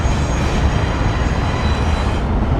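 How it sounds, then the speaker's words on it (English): A train rumbling past near the triple underpass at Dealey Plaza in Dallas, a loud, steady roar of wheels and cars close by with no pause. "Got a train coming by."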